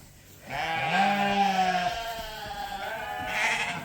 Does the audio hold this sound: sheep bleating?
yes